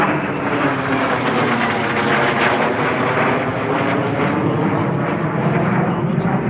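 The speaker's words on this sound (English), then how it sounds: "Goodyear Tire and Rubber Company built FG-1D Corsair." Goodyear-built FG-1D Corsair flying at the New Orleans airshow, a loud continuous piston-engine roar with a steady droning rumble, overlaid by a voice announcing over a PA.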